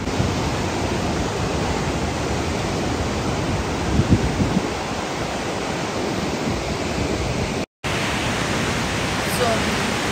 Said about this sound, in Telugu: వాటర్ సౌండ్ వినండి అసలు.